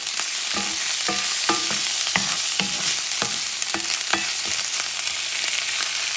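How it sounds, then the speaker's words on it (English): Aromatics including onions fry in a pan while a spoon stirs them briskly, with a loud continuous sizzle and regular scraping strokes about every half second. "I'm mixing this stuff up just to get those aromas, get those flavors"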